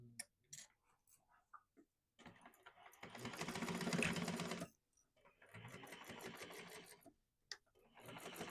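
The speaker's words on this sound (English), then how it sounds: "we're at the machine, we're going to go ahead and we're going to top stitch through the lining side" A sewing machine top stitches through the lining of a sling bag in two steady bursts of a few seconds each, separated by short pauses, with quiet clicks and handling noises before and between.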